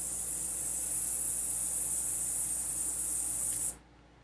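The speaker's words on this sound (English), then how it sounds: "Ultrasonic is sizzling." An ultrasonic cleaner gives a steady, high-pitched fizzing hiss that runs evenly for a few seconds, then cuts off abruptly into near silence.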